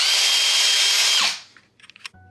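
A loud, continuous whine of a power sander runs steadily, then winds down and stops, followed by a few light clicks and a soft tap.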